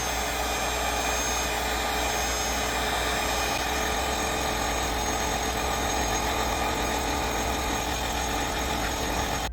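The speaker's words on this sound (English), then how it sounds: "I'm going to use a heat gun on it" A loud, constant blowing roar of a heat gun warming a leather repair patch, unbroken and close for the whole stretch, with no voices.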